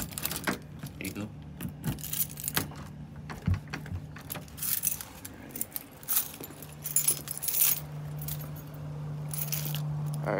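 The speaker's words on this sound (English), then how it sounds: "Jeez, so much keys." A heavy bunch of keys jangles and clinks repeatedly in irregular bursts against a low engine-like hum, with rustling handling noise between the metallic rattles.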